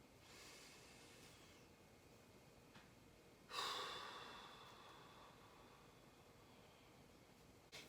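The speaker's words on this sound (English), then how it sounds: "Breathing." A single slow, deep breath taken during gentle, unhurried neck stretches, a soft airy exhale that swells suddenly and then fades gradually against a quiet background hiss.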